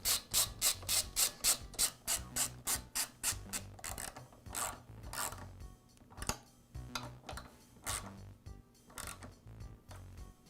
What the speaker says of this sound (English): align this assembly with the isolator, and install it.